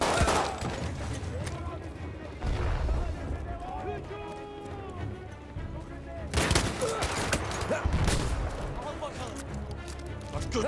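Battlefield 1 combat with bursts of rifle and machine-gun fire, rattling volleys and booms starting and stopping, mixed with shouting voices and battlefield din, while a player talks over it.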